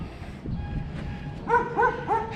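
Small dogs in Merida, Mexico yip and bark in a few quick, high-pitched bursts up close, with some low rustling and whimpering between them.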